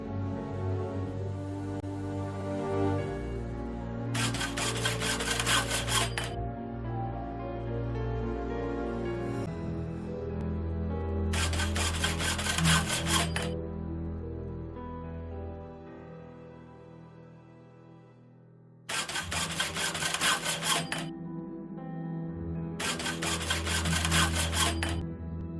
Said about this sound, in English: I could saw through the bars, being careful to create a passage wide enough.